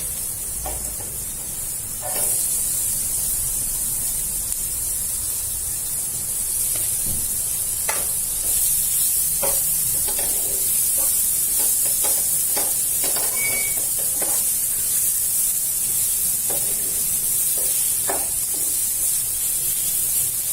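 Onion sautéing in butter for masala pav crackles with a loud, steady hiss, dotted with the stir and scrape of a spoon against the pan, and no one speaks.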